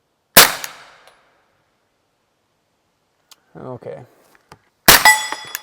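Two sharp, loud shots from a CZ P-09c pistol fitted with an AB F4 suppressor, each followed by a metallic ring off a steel plate, separated by a quiet gap with a brief spoken word.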